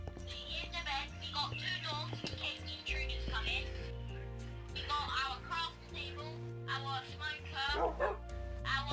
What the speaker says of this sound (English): And don't hit the dog.